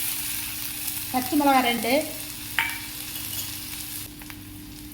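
Mustard seeds, fennel, sliced onion and a sprig of curry leaves fry in hot oil, producing a steady, even sizzle throughout, with a short stretch of speech over it and a sharp clink near the middle.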